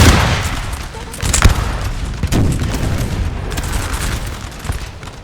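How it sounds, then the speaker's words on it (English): Musket volleys in a Napoleon: Total War battle at Tolentino in 1815, ragged crackling bursts of massed gunfire rolling on for several seconds, with sharper loud cracks near the start and a dense, distant battle din underneath. "Keep shooting and shooting, boys."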